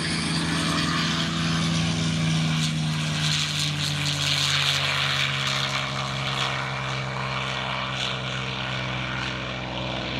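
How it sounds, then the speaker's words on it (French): Vintage propeller warplane at an air show, such as a P-51 Mustang or P-47 Thunderbolt, takes off with a loud, sustained droning engine roar, close and steady with no talk. "c'est de faire décoller un bel avion"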